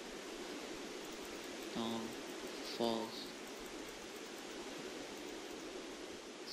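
Steady rain falls in the video game Minecraft, a continuous even hiss of drops with no gaps, while a voice speaks briefly and quietly over it.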